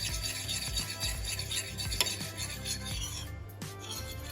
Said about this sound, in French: j'en ai mis un tout petit peu, hein, juste histoire de pouvoir remuer